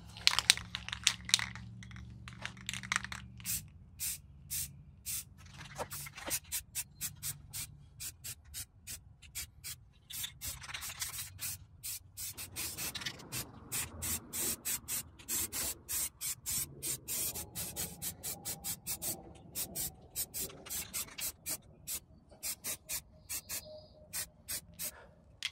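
Aerosol primer being sprayed from a rattle can onto a sanded 1998 Jeep Grand Cherokee ZJ in a backyard, heard as close, repeated short hissing bursts in a steady rhythm of passes, with rubbing and handling noises between them.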